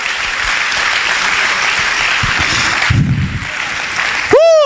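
Church congregation applauding God during a Spanish-language sermon, loud sustained clapping throughout that cuts off near the end as a voice starts.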